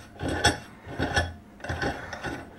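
Screws on a clamp holding a mold are loosened, giving a few ratcheting, grinding turns in separate bursts with short pauses between them, close up and moderately loud, with no talking.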